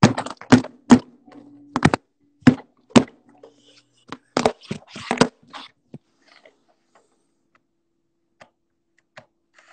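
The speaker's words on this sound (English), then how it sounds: "Why are you typing all those uppercase letters?" Fingers type on a computer keyboard in quick bursts of sharp, close clicks, then slow to a few scattered taps before falling quiet.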